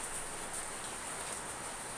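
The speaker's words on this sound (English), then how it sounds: "So now it's raining and it's really loud." Heavy rain pours down steadily and loudly, a dense continuous hiss of drops drumming on surfaces close by, with no voices over it.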